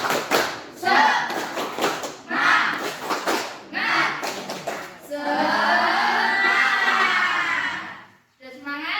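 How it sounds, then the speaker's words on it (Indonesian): A classroom of students claps a rhythmic spirit chant together, bursts of loud clapping mixed with chanting voices, ending in a sustained, loud cheer-like shout before a brief pause. "Coba kita tepuk dulu sebelum belajaran. Tepuk semangat."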